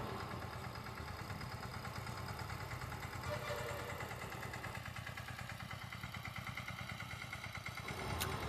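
A village tractor engine runs steadily at a low rhythmic chug, continuous and fairly distant, with no talking over it.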